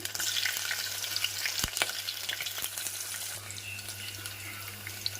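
Ginger and green chillies fry in a hot pan with a steady, close sizzle and crackle, a few sharp clinks of utensils in between, and no voices.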